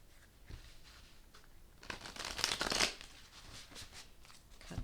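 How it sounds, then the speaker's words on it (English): Tarot cards riffled and shuffled close by, with a few quick bursts building to a louder flurry in the middle, no one talking. "a couple more shuffles and we'll get started."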